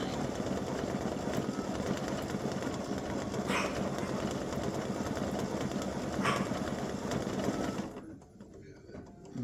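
An embroidery machine stitching heart outlines on a Valentine's mug rug, a dense, rapid, steady mechanical whir close by for about eight seconds before stopping abruptly, leaving near silence.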